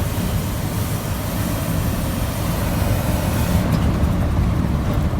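A 1985 K20 truck's engine roars at full throttle on the road, a loud, steady broadband drone with no voices.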